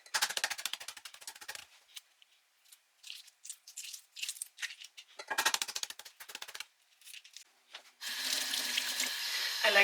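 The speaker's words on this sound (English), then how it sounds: "I like to rinse off the eggs just to make sure there's absolutely no shell left on them" Several bursts of rattling and clattering near the start, then a steady rush of tap water running at a kitchen sink for the last couple of seconds while peeled boiled eggs are rinsed, close and fairly loud.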